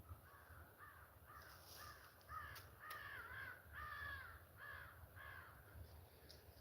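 Repeated crow caws in short rhythmic bursts, some drawn out, over a low steady rumble of background noise.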